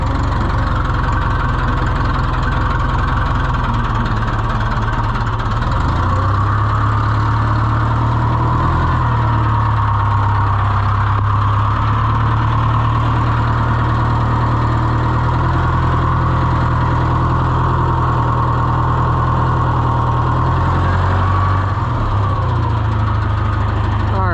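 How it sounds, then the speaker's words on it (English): A heavy diesel engine of a used 1650 tractor idles steadily and close by for the whole stretch, a low rumbling throb with a faint knock. "we parked it in the shed as a running tractor just a couple days ago"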